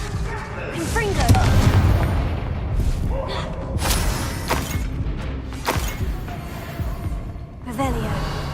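The Confringo spell going off in the Hogwarts Legacy video game: loud booming blasts and crackling bursts strike at several points, among game sound effects and a voice.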